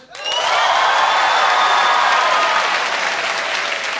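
Loud, sustained applause from a comedy club crowd bursts in and stays dense and even, with scattered cheers, tapering only slightly near the end.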